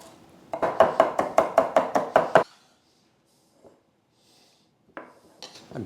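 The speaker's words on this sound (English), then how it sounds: "I am finely mincing the parsley." A knife on a cutting board finely mincing parsley: nine quick, evenly spaced chops in a steady burst, then quiet with a couple of faint taps and a softer scrape near the end.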